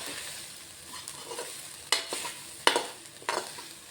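Bitter gourd and onion fry crackling in a pan, a steady broadband sizzle broken by a few sharp stirring scrapes, close and fairly loud with no voices.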